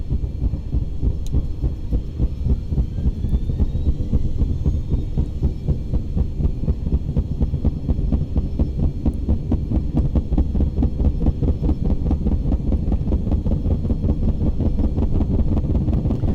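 Twin turboprop engines of an MV-22 Osprey tiltrotor in the X-Plane 11 flight simulator run with a steady, loud low-pitched drone and rapid throbbing rotor pulse, continuous and close throughout with no talking.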